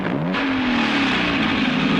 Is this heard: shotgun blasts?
no